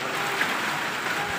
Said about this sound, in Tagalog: Sa wakas, umulan din.